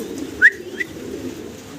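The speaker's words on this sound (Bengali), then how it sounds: "ডিম বাচ্চা করা রানিং কবুতর, বিশাল সাইজের।" Large breeding pigeons at a pigeon farm give a low, steady cooing hum throughout, with one brief, sharper call near the start and a fainter one after it.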